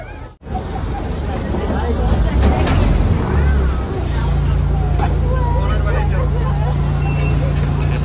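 A return boat ride with a steady low motor drone and water rumble throughout, while several people chatter loudly nearby.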